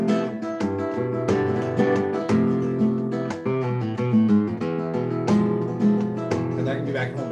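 An acoustic guitar plays the vuelta cadence in flamenco compás, strummed chords in a steady rhythmic pattern, close and alone.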